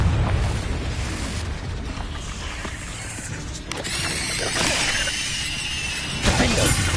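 Confringo spell blasts in Hogwarts Legacy, loud crashing bursts with shattering debris and booming impacts, layered with magical effects and battle noise throughout, close and intense, with no speech.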